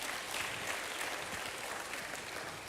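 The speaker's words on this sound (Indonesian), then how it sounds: "berikan tepuk tangan bagi Tuhan" A church congregation claps together in steady, dense applause that holds at an even level throughout, with no voices standing out.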